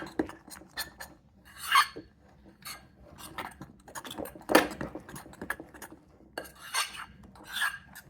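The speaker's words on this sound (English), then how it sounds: "now let's mix it up, shall we? I have a big old spoon here." A big spoon stirring kid-safe slime in a bowl: scattered scraping clinks and knocks against the bowl in irregular bursts, close and fairly quiet, with soft gloopy mixing between strokes.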